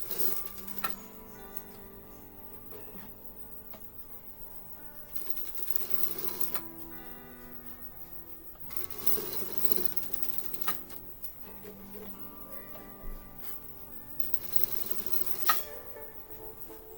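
A sewing machine stitches piping onto the sleeves of a baby frock, running in several bursts of steady mechanical whirring and ticking separated by short pauses, close and moderately loud with no talk.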